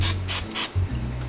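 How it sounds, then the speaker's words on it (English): Pam cooking spray is misted onto a pan in three short, loud hissing bursts, each a fraction of a second, over a low steady kitchen hum. "I'm gonna do a quick little spray of Pam."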